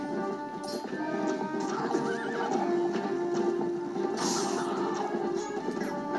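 A horse gallops with steady clip-clop hoofbeats and snorts, a neigh rising partway through, amid background sounds from the video game The Legend of Zelda: Twilight Princess.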